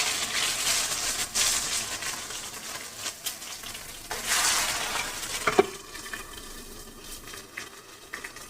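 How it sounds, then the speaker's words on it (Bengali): Shol fish fry in plenty of oil in a covered pan, giving a continuous crackling sizzle with bursts of louder spattering and a few sharp pops and clinks, heard alone without talk. "এবারে ঢাকা দিয়ে দিয়ে ভাজবো, না হলে মাছগুলো খুব ফাটবে।"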